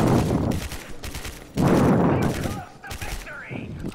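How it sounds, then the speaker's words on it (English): Rapid gunfire in the multiplayer shooter Gotham City Impostors, loud bursts of automatic shots and blasts with a voice speaking over part of the action. "please stop shooting me"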